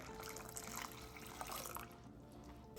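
Boiling hot water pours into a bowl in a kitchen, a quiet continuous splashing stream that thins and tapers off toward the end.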